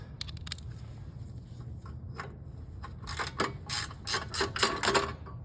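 A hand ratchet tightens the 7/16 bolts holding a new ignition coil on a snowblower engine, close up: a few soft clicks at first, then quick bursts of loud rapid ratcheting, with no talk.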